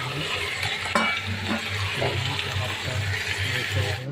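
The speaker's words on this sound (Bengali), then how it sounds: "লঙ্কা দিয়ে নাড়াচাড়া করবো অনেকক্ষণ ধরে" Onions and chillies frying in a pan hiss and crackle while a spoon scrapes and stirs them in irregular strokes, close and moderately loud, with a low hum and occasional voices underneath.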